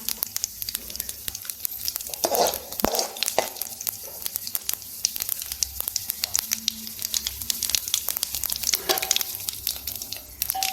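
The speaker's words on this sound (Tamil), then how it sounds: "ஒரு கடாயில் எண்ணெய் ஊற்றிருக்கேன் எண்ணெய் கொஞ்சோன்னு கடுகு ஜீரகம் வெந்தயம் எல்லாம் சேர்த்து பொரிய விட்டுக்கலாம்" Mustard, cumin and fenugreek seeds splutter in hot oil in a kadai, a steady crackling sizzle peppered with sharp pops and occasional stirring clatter, close and fairly loud with no voice over it.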